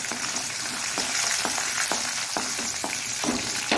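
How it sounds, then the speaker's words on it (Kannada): Urad dal sizzles in oil in a pan, a continuous crackling fry broken by regular clinks and scrapes of a spoon stirring, close up and with no voices. "ಇನ್ನು ಉದ್ದಿನ ಬೇಳೆಯನ್ನು ಹಾಕೊಂಡು ಸ್ವಲ್ಪ ಉದ್ದಿನ ಬೇಳೆ ಕಲರ್ ಚೇಂಜ್ ಆಗಬೇಕು"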